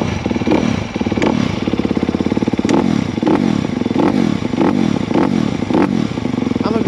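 A 2022 Honda CRF 250R dirt bike, just electric-started, idles as it warms up: a loud, close, steady putter with regular clattering pulses and occasional sharper knocks, running without pause.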